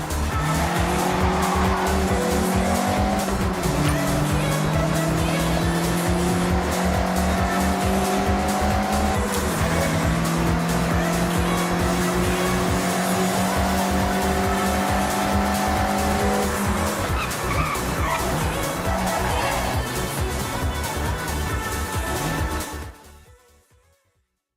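A Mazda MX-5 drifting in Forza Horizon, engine droning loudly as tires squeal in long sustained skids through corners, the engine note stepping through gear changes before fading out near the end.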